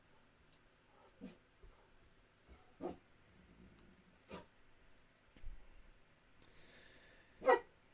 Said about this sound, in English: My dog's barking is better music.